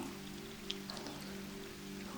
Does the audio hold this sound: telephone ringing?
no